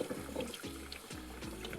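Cold tap water running over homemade cultured butter in a mixing bowl, a close, steady gurgling stream with repeated sloshing surges.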